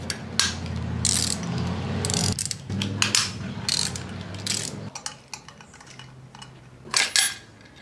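Ratchet wrench clicking in quick bursts while loosening 10mm bolts from a pipe on an engine under teardown, close and clear with short pauses.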